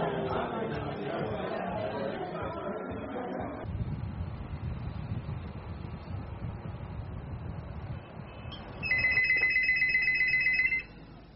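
A telephone rings loudly for a couple of seconds near the end, after a stretch of muffled indoor chatter and background noise in a Chadian film scene.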